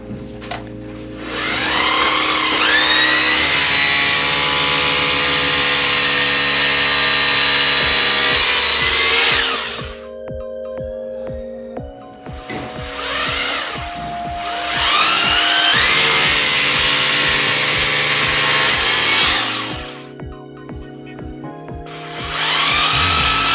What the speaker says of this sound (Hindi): जहाँ जहाँ हमने मार्किंग की है वहाँ हमें ड्रिल कर लेना है।